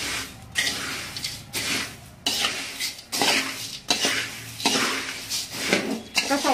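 Puffed rice chivda being tossed in a pan with the heat off, bursts of dry rustling and scraping strokes with metallic clinks, coming in repeated rhythmic waves with short pauses between.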